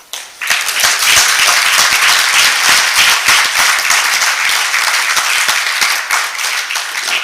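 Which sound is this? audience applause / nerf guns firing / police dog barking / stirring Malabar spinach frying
audience applause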